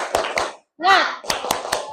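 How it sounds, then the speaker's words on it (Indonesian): Primary school children in an Indonesian classroom do a rhythmic clapping chant: sharp, close hand claps in a steady pattern, broken in the middle by a loud shouted chant word, then more evenly spaced claps. "Oke, tepuk semangat."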